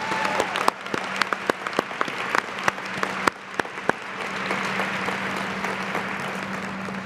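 An audience at a university student showcase gives a round of applause, with sharp individual claps popping out at first before the clapping settles into a full, steady roar.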